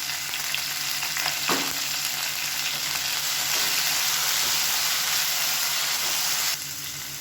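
Curry leaves, mint and coriander leaves sauté in a hot oiled pan with a steady, loud sizzle throughout, a brief scrape of stirring near the start, and the hiss easing slightly at the very end.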